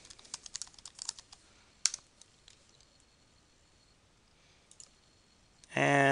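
Computer keyboard keys tapped to enter a username and password, a quick scattered run of faint clicks followed by a pause, a few more keystrokes, then a louder burst at the end.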